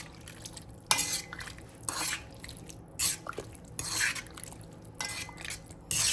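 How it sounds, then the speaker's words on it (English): A spoon stirs a chipotle carne asada marinade in a bowl, giving repeated scraping, clinking swirls in bursts about a second apart, close and fairly loud, with no voices. "And then give it a good little mix."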